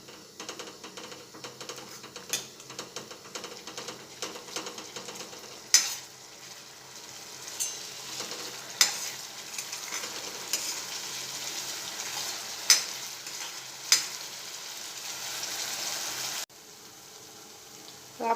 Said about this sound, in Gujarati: હવે આમાં આપણે અડધા લીંબુનો રસ એડ કરી દઈશું અને સરસ સાતળી લઈશું આ રીતે